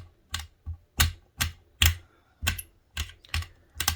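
A knife chops polymer clay cane scraps on a hard surface, making about nine sharp, close taps in an uneven rhythm with quiet gaps between them.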